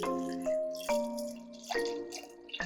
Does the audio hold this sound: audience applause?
no